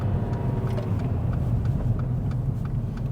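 A car engine hums steadily from inside the cabin during a driving lesson, a medium-pitched drone with mild accelerating rumble, continuous and fairly loud, with no talk over it.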